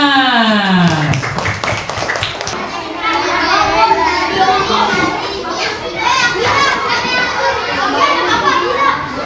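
A class of children claps in a classroom with a burst of rhythmic clapping, then lively chatter and overlapping kids' voices with scattered claps.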